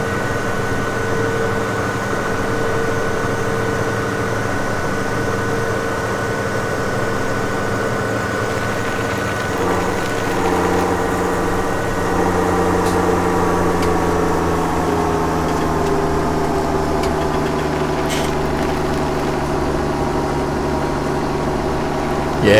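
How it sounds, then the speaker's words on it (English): Tractor engine running steadily in the Farming Simulator 17 game, a low, droning idle-like hum with slight pitch shifts, loud and constant and heard on its own. "Yeah, this isn't the healthiest tractor I've got"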